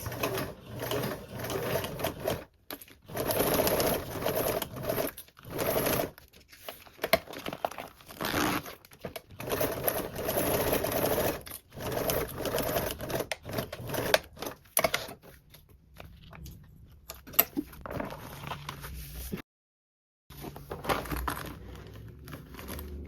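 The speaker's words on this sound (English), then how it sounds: "I can sew right on top of those lines" A Belmont Luxe sewing machine stitches over earlier stitch lines in repeated rattling bursts of a few seconds each, broken by short pauses and one longer silence near the end.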